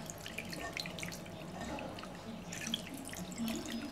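Cold water splashes and drips as fresh chhena (paneer) curds are washed in a kitchen, a soft, close, continuous trickle with no talk over it.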